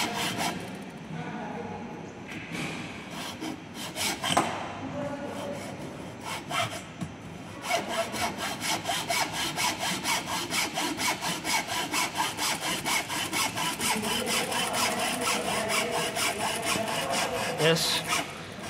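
Hacksaw cutting through wood up to a marked line for a cross slab carpentry joint in a workshop, with rapid back-and-forth rasping strokes growing steady and continuous after a few irregular starts, close and fairly loud.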